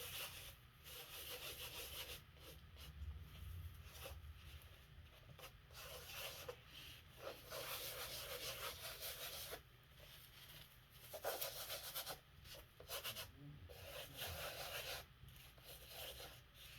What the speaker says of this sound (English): And now I'm just going to start rubbing it off.